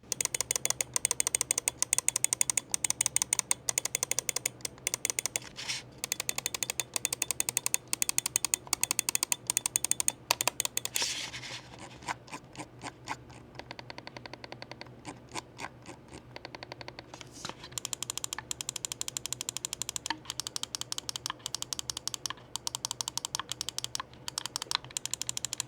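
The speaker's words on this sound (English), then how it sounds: "Clicks feel good. I mean, it's not a bad mouse. Do a quick sound test." Rapid, crisp mouse button clicks from a Logitech G Pro X Superlight 2c wireless gaming mouse, a dense run of sharp close-up clicks that eases into a sparser, quieter stretch before fast clicking resumes, with no talking.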